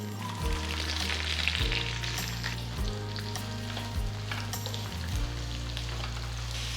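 Sliced small shallots, about 400 grams, hit a hot frying pan for a chicken fry and sizzle loudly and continuously, with a few stirring scrapes through the steady hiss.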